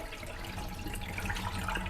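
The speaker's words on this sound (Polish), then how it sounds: "Elegancko najpierw wylewam nadmiar wody." Excess water is poured off fishing bait worms held in a sieve, giving a soft, steady trickling and splashing that stays quiet and continuous.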